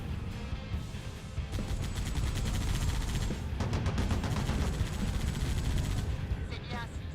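Halo Reach defense turret firing in rapid, continuous bursts amid a dense, moderately loud battle din, with someone speaking French over the gunfire.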